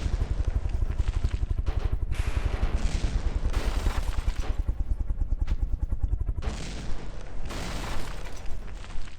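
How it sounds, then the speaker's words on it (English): A minigun in the video game From the Depths roars with sustained rapid gunfire throughout, a dense mechanical rattle with booming impacts and bursts layered over it. "the minigun's helping as best it can"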